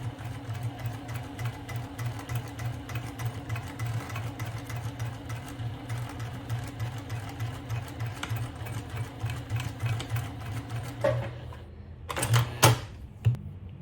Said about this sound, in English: we're here at the sewing machine